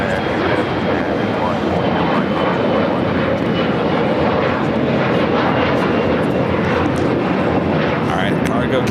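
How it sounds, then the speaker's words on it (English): A Boeing 777 freighter crossing a runway at LAX gives off a loud, steady engine roar that holds throughout, with talk over it. "777 Freighter will now cross over 25 at right"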